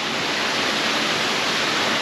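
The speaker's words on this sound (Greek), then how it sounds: "Σας παρουσιάζω τη γερόλυμνη του ποταμού Άχλα." Rushing river water at a pool on the Achla river on Andros forms a steady, loud, unbroken roar that stays even from start to finish, with no voices.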